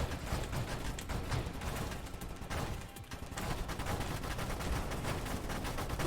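Rapid full-auto weapon fire in the space shooter Nova Drift, a dense, continuous stream of crackling shots with no pause.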